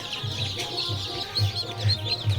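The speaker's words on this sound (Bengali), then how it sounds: "এখানে দেখতে পাচ্ছেন বোর্ডিং করা বাচ্চা রয়েছে" Many layer and local breed baby chicks peep continuously in a dense, high-pitched chorus, close and fairly loud.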